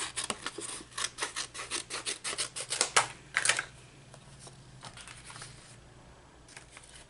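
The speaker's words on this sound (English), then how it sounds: "So I'm just going to cut going straight across." Scissors cut straight across a sheet of paper for a junk journal, a quick run of close, crisp snipping strokes that stops after about three seconds, followed by faint handling sounds.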